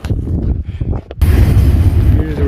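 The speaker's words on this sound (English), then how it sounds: "That's the sound of the train. Just above me." A train passes on tracks just overhead beside the Pacific Crest Trail near I-10, first as quieter scattered sounds, then a loud, close, deep rumble that kicks in suddenly and holds steady.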